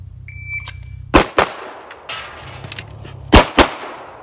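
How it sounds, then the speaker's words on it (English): Pistol shots at a shooting practice range, loud close cracks in two separated pairs with some smaller clatter between them and no talking. "Pulled that first shot off a little before I wanted to, and it went about in the neck area."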